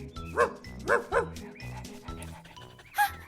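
A voice imitates a dog barking with four quick woofs, followed a moment later by a single higher yip.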